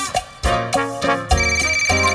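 A phone ringtone plays loudly and close, a repeating melodic electronic tune with evenly spaced pulsing notes, heard alone without talk.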